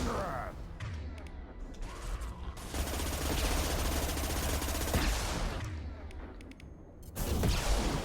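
SMG fire from Mass Effect 2, during a loyalty mission on Insanity difficulty, rattles in sustained rapid bursts. Sharp mechanical clicks and short pauses break up the bursts, and a voice speaks over the combat.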